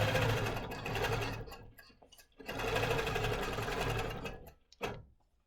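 A longarm quilting machine stitches a 25-patch quilt in steady runs, pausing briefly twice between passes; the motor hum and rapid needle chatter stay loud and close, with no talking.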